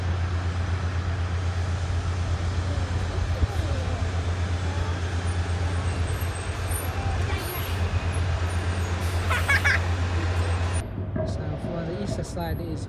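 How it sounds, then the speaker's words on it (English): A city bus passes on a street beside a campus building, its low engine drone steady and close throughout, with traffic rumble and a brief air-brake-like hiss near the end; people talk over it. "Bus is coming, side right."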